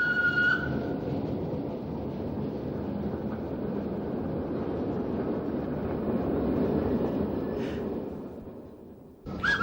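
A steady rumbling, rattling steam tram runs continuously on rails in 1970s Indonesia, with a brief high whistle-like tone near the start and another later.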